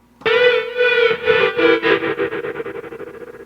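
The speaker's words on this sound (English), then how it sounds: "What if we tried the tremolo pan?" A sustained synth tone on an SP-404SX sampler pulses with a slow tremolo pan effect, swelling and dipping in even waves as it slowly fades out.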